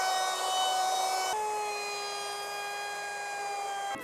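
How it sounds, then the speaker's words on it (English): Sanding a wooden ottoman box with 220 grit sandpaper, heard as a steady, moderately loud whining drone that dips slightly in pitch a little over a second in and then holds evenly to the end. "sand the whole box with 220 grit sandpaper and round over all the edges"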